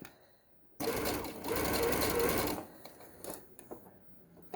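A sewing machine stitches slowly across a thick tote bag handle in a steady, close mechanical whir of about two seconds, then stops, leaving light handling clicks.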